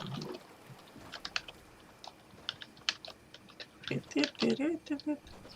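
Clicky computer keyboard typing during a Fortnite session, scattered bursts of keystrokes with pauses, fairly close and moderate in level, with brief spoken remarks mixed in.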